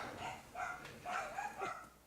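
Dogs bark a few times in the distance, faint, short yelping barks scattered over two seconds with no voices in between.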